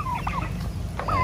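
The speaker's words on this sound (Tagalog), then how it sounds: "Pabo natin, kumakain yan ng ating bagong patuka." A turkey gobbles while feeding on fine rice-bran feed, a few short warbling calls close by over a low steady background rumble.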